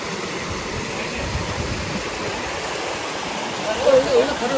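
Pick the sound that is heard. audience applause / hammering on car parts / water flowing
water flowing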